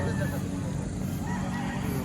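Chickens aged seven to eight months call out with honking, clucking cries at a busy Batangas poultry market, the bird sounds rising over a steady crowd din.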